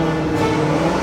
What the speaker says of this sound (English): that sounds way better with the exhaust and intake